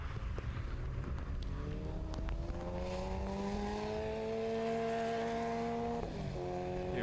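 A Clubman class race car of up to 150 brake horsepower passes the line at Snetterton circuit, its engine note droning loud and steady, then shifting pitch abruptly as it goes by.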